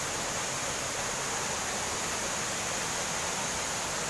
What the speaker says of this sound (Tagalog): Yan ang mga waterfalls.